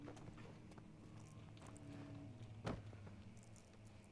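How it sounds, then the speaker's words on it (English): Footsteps inside the Amnesia: The Dark Descent video game come as a run of soft, regular low thuds over a dark ambient drone, with one sharper knock near the end. "So now I can hear footsteps"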